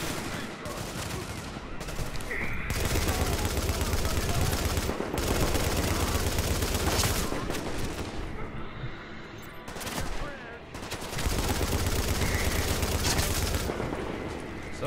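Rapid bursts of automatic gunfire from new weapons in the video game Tom Clancy's The Division, dense sustained volleys broken by brief pauses, loud and close.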